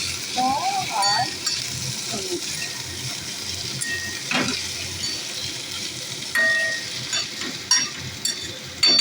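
Cashews, ginger and garlic frying and being stirred in a pan, a steady close sizzle with scraping stirs and occasional clinks, continuous across the stretch.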